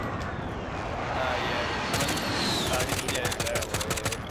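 Rapid automatic gunfire in the Warzone video game, dense bursts of shots crackling over a constant battle din, growing busier toward the end, with players talking underneath.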